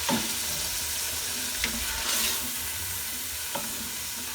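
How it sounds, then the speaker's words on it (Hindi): Minced meat (keema) sizzles steadily in a pan over moderate heat, with a continuous frying hiss and a few soft stirring scrapes, close and alone without talk. "और आँच हमने बराबर रखनी है इसकी, ज़्यादा तेज़ भी नहीं रखनी है, ताकि हमारा कीमा जल ना जाए।"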